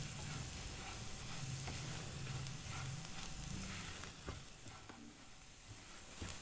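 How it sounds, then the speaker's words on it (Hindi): Red chili powder and Kashmiri chili powder roasting in a pan for a guar bean curry. A constant low sizzle carries occasional stirring scrapes and faint ticks, with no voices. "अच्छे से पहले इसे भून लें मसालों को।"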